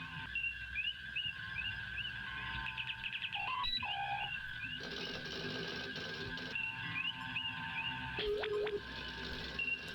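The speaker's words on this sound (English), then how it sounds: "it sounds like a bunch of birds and ticker tape" Bird-like chirps, warbling electronic trills and clicking ticker-tape sounds from the DOS game Star Trek: 25th Anniversary (1992), a busy layered stream of synthetic tweets and sweeping tones over a steady hum.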